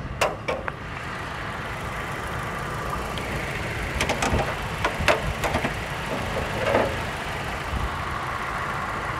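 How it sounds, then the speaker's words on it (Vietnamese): 2006 Toyota Innova G engine idling under an open hood, a steady low mechanical hum with a few sharp clicks and knocks on top, recorded close by. "bây giờ em sẽ ra ngoài mở cái capo lên và quay cái máy cho anh chị xem nha"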